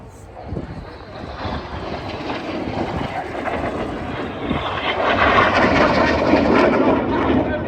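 Jet aircraft of a Synchro pair flying the Boomerang manoeuvre at the Cosford airshow, a broad rushing engine roar that swells steadily louder as they pass, with a commentator talking over it.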